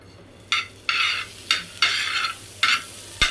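Butter sizzles in a hot pan while bread pizza is made, with bursts of crackling frying and scraping strokes in an uneven rhythm, close and fairly loud, with no voices.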